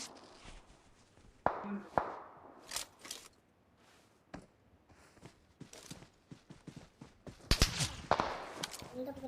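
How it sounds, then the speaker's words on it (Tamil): Gunfire in a PUBG Mobile squad match, including a suppressed AR, comes as sharp, scattered shots and bursts, some loud and close, others fainter, with players talking over it. "அடிச்சுக்கிட்டே இருக்கானுங்களே கேப் விடாம"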